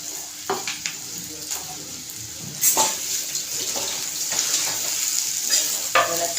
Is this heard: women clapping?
no